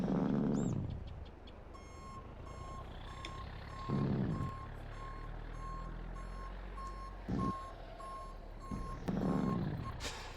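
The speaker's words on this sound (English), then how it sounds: "If I can back it up on here without falling off." A truck backs up onto a ramp to dump a load, its backup beeper chirping steadily over a continuous engine rumble, with a few louder surges of engine and clunking along the way.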